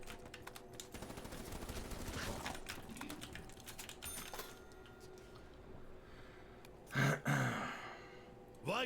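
Rapid HVK automatic rifle fire in a first-person shooter video game, dense bursts of close gunshots through the first half, then quieter game noise with a couple of louder hits near the end.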